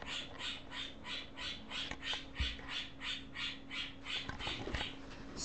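Repeated harsh squawks from a pet bird, a rhythmic run of about a dozen bursts, fairly close and steady, with a few clicks and knocks in the room and no talking.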